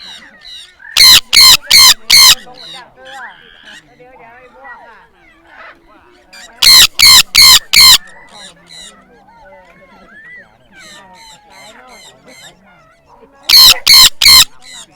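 Free-flying parrots over Huai Lan Reservoir in Chiang Mai, Thailand, let out three loud, close bursts of harsh screeching calls, about four rapid calls in each burst, with softer calls and a speaking voice in between.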